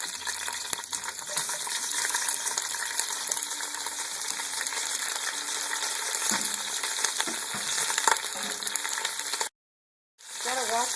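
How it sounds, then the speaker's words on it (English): Large chunks of cauliflower and garlic fry in a pan with a dense, steady sizzle and crackle, broken by occasional stirring clinks. The sizzle cuts out briefly near the end, then comes back. "Gianna, I'm going to blonde my cauliflower at the same time as my garlic, so I'm going to add those"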